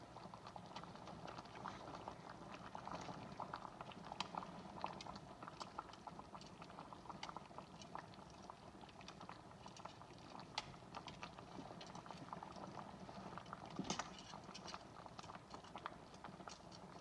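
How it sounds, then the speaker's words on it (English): Pig feet simmer in a pot with a soft, continuous bubbling and irregular small pops and ticks, faint and close, with no talking. "Alright, they're coming to a boil."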